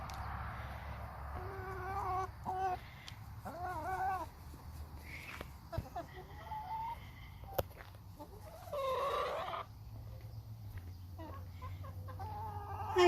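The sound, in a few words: chicken clucking after grabbing a tomato worm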